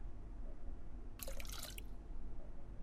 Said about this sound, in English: pour this into the filter, get the clean water out, then pour the clean water onto the plants